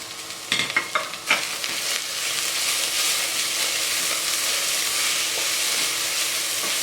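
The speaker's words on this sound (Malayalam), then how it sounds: "ഈ സമയത്ത് നമുക്കിതിലേക്ക് ചതച്ച് വെച്ചിരിക്കുന്ന വെളുത്തുള്ളി, ഇഞ്ചിയും കൂടി ചേർത്ത് വീണ്ടും നന്നായിട്ട് വഴറ്റി കൊടുക്കാം" Crushed garlic and ginger sautéing with onions and green chilies in a pan for beef masala, a few quick utensil knocks at first, then a loud, steady, close-up sizzle of frying with no talk.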